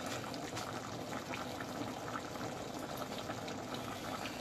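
Black beans boil in a pot, a quiet, steady bubbling and gurgling of simmering liquid heard close by and alone.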